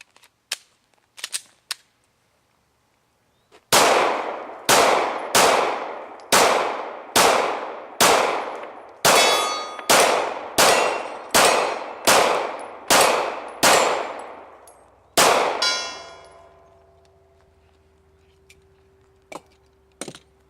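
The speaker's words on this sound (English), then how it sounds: "Let's shoot the Glock once more." Glock 9mm pistol shots ringing a steel target outdoors: a few faint distant pops, then about a dozen loud, evenly spaced sharp cracks, each followed by a lingering metallic ring that fades after the last shot.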